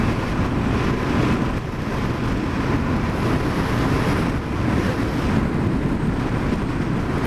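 Night wind gusts across the microphone in a continuous, loud rumbling rush that swells and dips slightly, with no talking.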